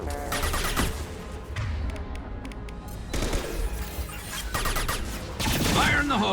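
Sustained gunfire in the video game Mass Effect 2, dense bursts of shots with thuds across the whole stretch, loud and close, mixed with game effects and faint voices.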